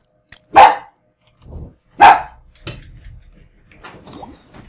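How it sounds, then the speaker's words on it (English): The dog Hercules barking in the survival game Dark and Light: two sharp, loud barks a second and a half apart, followed by softer, rougher barks and growly grunts. "It's my dog Hercules."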